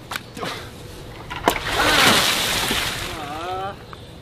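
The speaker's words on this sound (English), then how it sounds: "Water balloon fight." Water balloons bursting, with sharp slaps followed by a broad splash and spray of water, a few quick impacts under brief talk.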